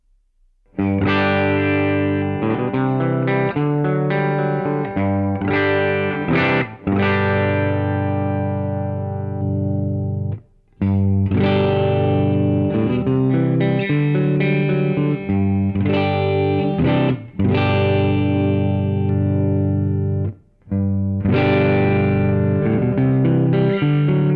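Electric guitar riffs repeated in three passages separated by short pauses, strummed chords with a crunchy, distorted edge, loud and upfront with no talking.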